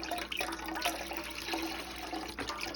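Water pours steadily into a stock pot of vegetable stock for braising smoked oxtails, a continuous close splashing fill with no talk over it.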